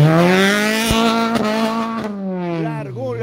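Horacio Canepa's number 32 rally car launches from the start of the first special stage at Rally Pisco 2024, its engine screaming loud and close with a high wailing note that climbs and then drops through quick gear changes.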